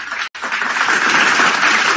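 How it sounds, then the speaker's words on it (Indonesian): Audience applause at a gathering, a short dense burst of clapping following a brief gap, steady and fairly close for about two seconds. "tepuk tangan untuk beliau."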